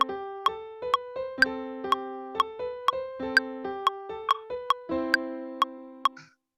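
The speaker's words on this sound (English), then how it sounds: "the piano sounds off while you're hearing the metronome" Piano notes play one after another while a metronome ticks sharply at an even pace, about twice per second, before the notes fade out.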